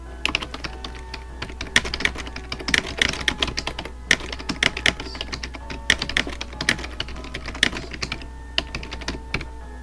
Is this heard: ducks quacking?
no